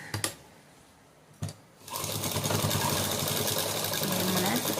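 Sewing machine stitching a small doll dress, starting after a couple of brief clicks and then running at a steady, rapid, whirring hum, close and loud, with no talking.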